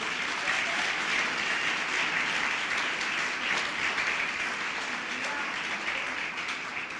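Church congregation applauding during a sermon, a sustained, even wash of many hands clapping at moderate distance for several seconds, no voices standing out.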